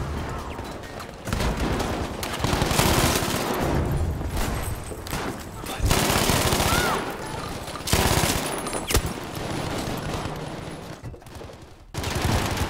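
VGO medium machine gun firing in Battlefield 5, long sustained bursts of rapid close automatic fire with brief pauses between strings, loud and dense throughout.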